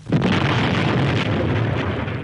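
A loud, sharp grenade blast in the video game PUBG bursts at once and rumbles on as a dense roar before slowly thinning.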